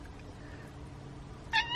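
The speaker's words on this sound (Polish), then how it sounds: "Miauczy." A cat recovering on antibiotics at a campsite lets out a single short, clear meow near the end, standing out against a quiet, steady background.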